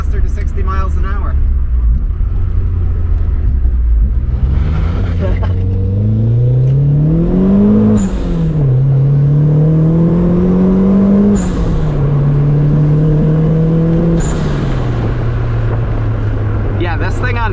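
Turbocharged Mazda Miata running 14 PSI of boost pulling hard toward 60 mph, engine note rising steadily through several gear changes with brief dips between pulls, loud and close from inside the car, with no talk over it.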